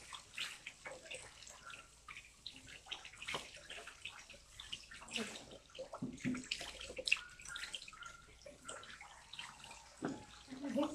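Shower water runs steadily during a bath, a soft continuous splashing and hiss at low level, with a few brief voices talking over it.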